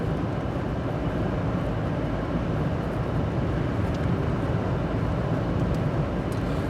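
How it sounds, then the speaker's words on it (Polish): Steady broadband rumble of road and engine noise inside the cabin of a Toyota Hilux 3.0 D-4D pickup with a five-speed automatic cruising at 90 km/h, constant and fairly loud with no talking. "jest to głośny samochód i pick-up, robimy pomiar hałasu przy 90, więc jadę poza terenem zabudowanym 90 na godzinę"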